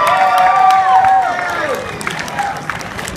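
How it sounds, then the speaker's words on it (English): A crowd at an outdoor cannabis march in Chicago claps and cheers in a sustained wash of applause, with a loud amplified voice ringing over it before the clapping gradually thins out. "Let's get some applause for cookies."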